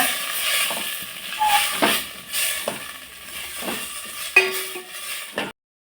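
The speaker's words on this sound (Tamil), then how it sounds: "தக்காளி நல்லா வதக்கி விட்டுக்கிறீங்க" Tomatoes are sautéed with softened onions in a pan for a village-style Tamil cowpea curry, with soft frying sizzle under repeated spoon scrapes and clinks against the metal pan, close and intermittent, no voices.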